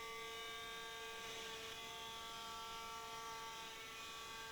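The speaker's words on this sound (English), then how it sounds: "I'm using the air supply to blow away the chips." CNC router cutting an aluminum control panel with an air supply blowing chips away, a steady high whining tone with layered harmonics and a constant hiss of air, even and unbroken, no voices.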